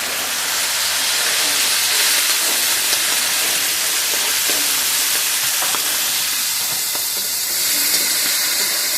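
Raw chickpeas fry in hot oil spiced with panch phoron, dried red chillies and bay leaf, giving a loud, bright, continuous sizzle with scattered crackles and pops that holds steady throughout.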